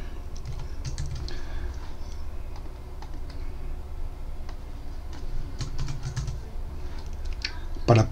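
Fingers tap out a password on a computer keyboard in quick, close clusters of light clicks with brief pauses between them, under soft background noise.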